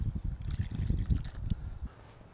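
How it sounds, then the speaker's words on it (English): Beef broth poured into a pot of Jack Daniel's BBQ baked beans, a short gurgling, splashing pour up close that stops abruptly near the end. "I got 1 1/2 cups of beef broth going in"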